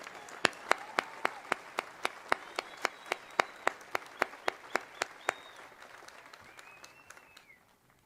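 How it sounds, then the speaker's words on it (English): A small group applauds at a high school graduation ceremony with distinct, evenly spaced claps that gradually fade out, with faint background murmuring. "Let's give a round of applause to our seniors"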